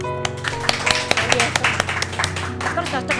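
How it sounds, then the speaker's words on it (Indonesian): Studio audience clapping during an Indonesian talk show about faith and parish economics, loud uneven claps over a sustained musical tone with steady background sound throughout. "Tepuk tangan dulu dong."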